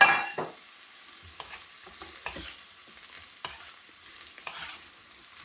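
Sweet peppers tossed into a hot pan for a vegetable rice dish, sizzling faintly while a utensil stirs and scrapes in several sharp, spaced knocks against the pan.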